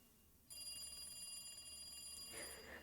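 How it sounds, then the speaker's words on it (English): Telephone ringing in the video game Higurashi When They Cry, a bright electronic trill that starts abruptly and holds steadily for about two seconds, moderately loud and alone. "The phone continued to ring."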